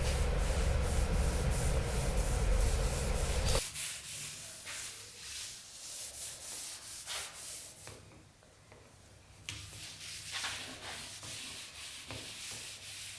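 Sanding a wooden dresser by hand or with a sander, loud steady abrasive rubbing at first, then quieter repeated scratchy strokes continuing close up, with no talking.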